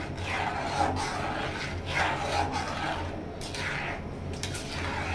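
Homemade tomato sauce is stirred in a pan, a spoon rasping and scraping across the bottom in repeated rhythmic strokes, close and moderately loud, with no talking.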